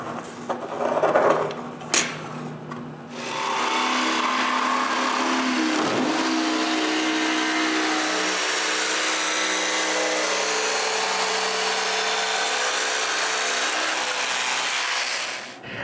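A saw cuts a circle from wood for a homemade wooden bandsaw, a few brief knocks and handling sounds, then a sustained loud, even rasping cut that runs steadily to the end.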